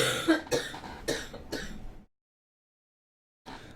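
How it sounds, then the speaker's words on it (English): Someone in the background coughs and clears their throat in a short burst of four coughs, then there is a pause of silence and one more cough at the end. "That coughing in the background"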